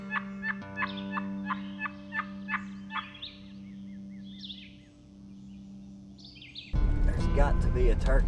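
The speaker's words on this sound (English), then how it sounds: "There's got to be a bird gobbling somewhere." A wild turkey gobbles several times in a quick series, clear but somewhat distant in open outdoor air with small birds chirping, before a louder burst of close rustling noise cuts in near the end.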